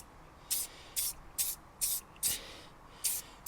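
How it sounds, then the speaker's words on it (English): Short bursts of an aerosol XCP Professional rust blocker, a thick waxy spray, sprayed onto a motorcycle, seven hissing puffs in an uneven rhythm, close and clear with no talk. "it's a much thicker spray"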